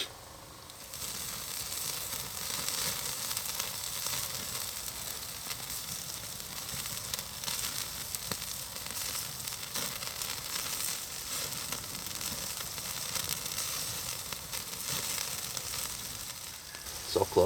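Steak searing over hot campfire embers at a snowy winter campsite, a steady close hissing sizzle that runs unbroken throughout, with no one speaking.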